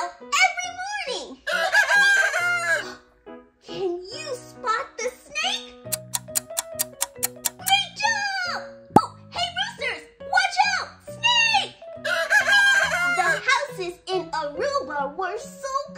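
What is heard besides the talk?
roosters crowing in Aruba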